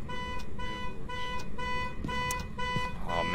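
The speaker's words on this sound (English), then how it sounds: "Yo, that car alarm fucking sucks." A car alarm in the VR ghost-hunting game Phasmophobia wails in repeating electronic tone cycles at moderate distance, with faint game noise beneath.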